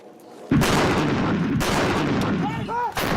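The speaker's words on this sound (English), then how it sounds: "These gunners are firing on an enemy position some 12 miles away." Artillery guns in Helmand, Afghanistan firing on an enemy position, a sudden heavy boom followed by a long rumbling roar and a second blast near the end, loud and close.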